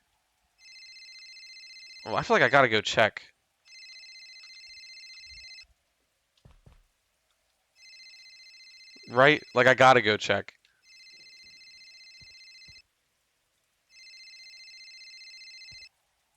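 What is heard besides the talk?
phone ringtone ringing in a video game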